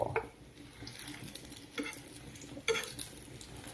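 Eggs fry for an omelette in a home kitchen pan: a soft, steady sizzle runs under scattered utensil scrapes and taps, with a few sharper clinks of a spatula against the pan.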